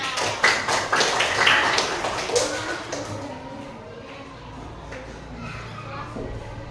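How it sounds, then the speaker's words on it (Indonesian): A school class claps for a student, a burst of loose, uneven clapping that tapers off after about three seconds, followed by quieter room noise and faint voices. "Tepuk tangan."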